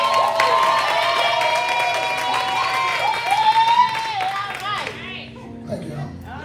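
Worship service congregation claps and cheers together, a dense, loud wash of applause and voices that swells and then tapers off.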